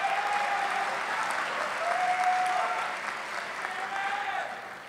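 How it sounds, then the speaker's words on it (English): Sustained applause from a large audience at a university business school undergraduate commencement fills a steady wash of dense clapping, moderately loud and unbroken, with faint tonal traces and a slight fade near the end. "let's give him a round of applause"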